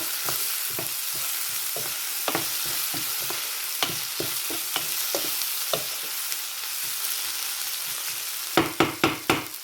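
Prawns and potatoes stir-fry in a pan under a soft, steady sizzle, punctuated by a regular series of sharp spatula taps and scrapes that quicken into several loud knocks at the end.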